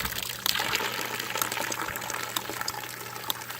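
Water gushes steadily from a hose on a ram pump system, a continuous, fairly soft hissing flow with a few small splashes and no talking.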